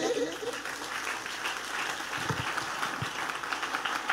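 Church congregation applause during a Spanish-language sermon on faith, a moderate, even spread of many hands clapping, with voices mingled in the crowd.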